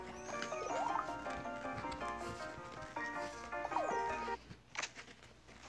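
A dog enemy in a video game barks and yaps repeatedly in quick patterned bursts over a synthetic game soundtrack, with small squeaky effects, steady and moderately loud.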